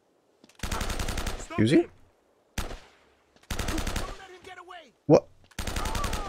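Bursts of rapid automatic gunfire from Uncharted: Drake's Fortune rattle out in three loud volleys separated by gaps, with a player's voice speaking briefly between them.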